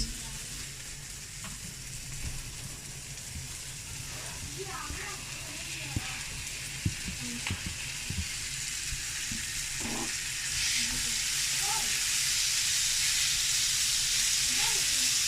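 Tomatoes sizzle and fry in a pan for a cheese omelette, a steady broadband hiss with occasional stirring clicks and faint speech-like sounds underneath, growing slightly louder toward the end.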